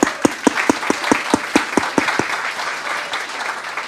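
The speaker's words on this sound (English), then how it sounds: "A round of applause for Agustina." A crowd applauds, with distinct claps at first that blur into steady clapping, loud and close, with no talking.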